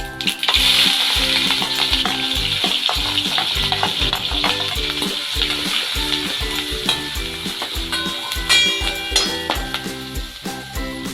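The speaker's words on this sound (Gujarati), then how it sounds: "હવે આપણે એમાં આદુ અને મરચાં નાખી દઈશું પહેલાં" Ginger and green chilies hit hot oil already tempered with mustard seeds, cumin and asafoetida for momo chutney, crackling loudly and steadily with constant dense sizzling and rhythmic spatula scrapes throughout; no voices.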